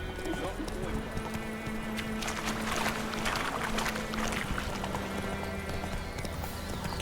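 Steady clip-clop of horse hooves on a road in The Witcher 3: Wild Hunt at a trotting rhythm, continuous and fairly loud, with a low hum and a voice talking over it.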